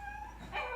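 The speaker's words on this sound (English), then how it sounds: "You made the dog howl." Chihuahua dogs let out a brief, faint, sustained wavering howl close by, with no talking over it.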